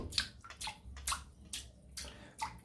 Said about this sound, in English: Dipped it in the water, and here we go.